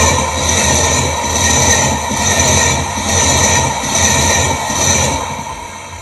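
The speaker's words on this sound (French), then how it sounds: "Ah, voilà un train qui arrive." Stainless steel DEV railcar set rolling loudly into a station platform, a sustained metallic rumble with faint wheel squeal and rhythmic swells as the cars pass close by.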